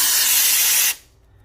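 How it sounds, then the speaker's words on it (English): A drywall texture sprayer fires a loud, steady hissing burst of texture mix for under a second, then cuts off abruptly into near silence. "you're going to want to test spray"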